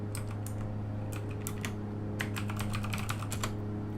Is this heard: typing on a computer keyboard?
yes